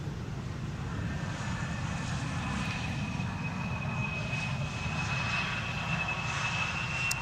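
A KLM airliner at Schiphol airport gives a steady, loud engine roar that holds evenly throughout with a faint high whine, no voices present.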